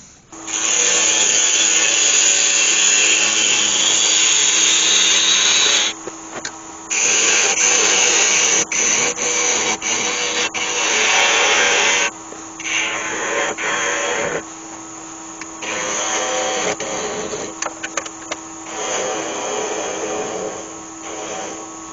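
Loud, continuous whirring of a wood lathe with sanding hiss on a turned wooden Christmas penguin, stopping briefly several times before starting up again.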